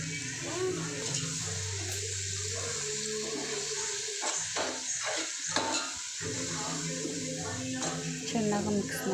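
Coriander and mint leaves frying and being stirred in a pan for mutton dum biryani, a steady close sizzle with scraping stirs throughout, under a quiet background.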